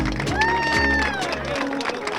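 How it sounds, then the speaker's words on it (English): Applause and cheering from a gathered crowd welcoming charity bike riders on a long-distance ride, with raised voices and shouts ringing over steady clapping. "A round of applause for these guys for turning up, and for everybody else who's here as well"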